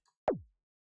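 A single synthesized kick drum hit, its pitch sweeping quickly from high down to a deep low thump, then fading out in silence.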